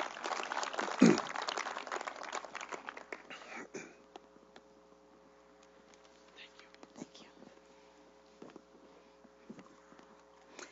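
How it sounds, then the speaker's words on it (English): Crowd applause bursts out at the start of a sports park groundbreaking ceremony in Windsor and fades, leaving quiet murmuring and scattered faint sounds. "Please give her a round of applause."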